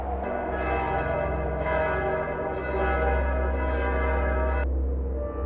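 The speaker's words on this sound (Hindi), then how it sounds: "अचानक मंदिर की घंटी अपने आप बज उठी।" A temple bell rings in a horror story scene, a sustained metallic tone with layered ringing overtones and a low drone, resonating steadily for several seconds with no speech.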